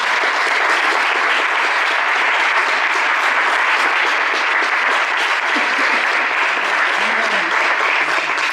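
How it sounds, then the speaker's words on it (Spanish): A congregation in church applauds loudly and continuously, a dense sustained wash of many hands clapping that fills the whole stretch at an even level. "¿Por qué no le das un aplauso al Señor?"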